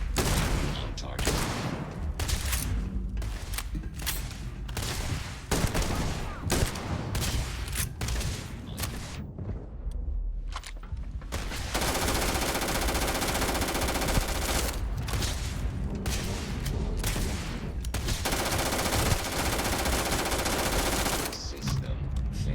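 Dense, loud gunfire from Starfield with long rapid automatic bursts, a brief pause, then heavy continuous firing under occasional speech.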